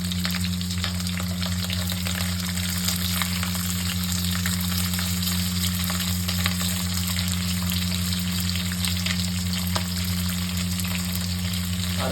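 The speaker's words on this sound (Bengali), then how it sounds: "তেলের মধ্যে শুকনো লঙ্কা, আর দিয়ে দিচ্ছি তেজপাতা, এর উপর দিয়ে দেবো পেঁয়াজ" Dried red chillies, bay leaf and onion fry in hot oil in a pan, a steady close sizzle with dense crackle running unbroken throughout, no voices.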